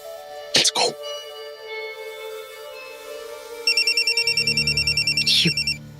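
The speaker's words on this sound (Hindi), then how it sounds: "एक सेकंड, विनोद का फोन आया।" A telephone ringtone sounds in an indoor TV drama scene, a bright repeating electronic warble that starts a few seconds in and carries on, preceded by short vocal noises like a cough or throat clearing.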